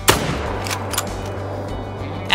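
An Argus rifle in the hunting game Call of the Wild fires one sharp, loud shot at the start, followed by a reverberating tail and a few softer echoing cracks.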